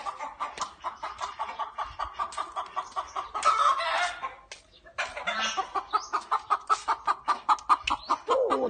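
Chickens cluck in a fast, steady rhythm nearby, with a brief squawking flurry in the middle before the clucking resumes.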